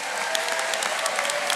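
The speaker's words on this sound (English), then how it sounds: "Let's give them a round of applause." Graduation audience in a large hall giving sustained applause for faculty and staff, a dense wash of clapping with occasional louder claps standing out.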